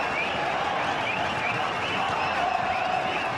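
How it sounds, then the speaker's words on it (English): Noisy cricket crowd filling Sharjah Cricket Stadium during an India–Australia match, a steady roar of cheering and murmur held at an even level throughout, with a commentator talking over it. "we've got a real noisy crowd out here at the Sharjah Cricket Stadium"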